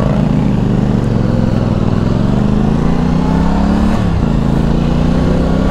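A CFMoto 450SR twin-cylinder sport motorcycle engine runs close and loud, a steady throbbing drone whose pitch creeps upward with a brief dip near the end, with no talking.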